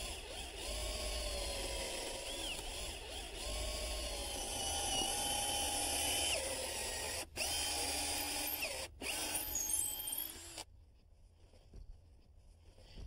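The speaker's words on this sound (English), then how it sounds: "Are we ready to drill? We are. It starts with a pilot hole." A power drill bores a pilot hole through a clapboard-sided house wall with a steady, high-pitched whine that rises and dips as it bites. It cuts out abruptly twice before stopping, leaving quiet.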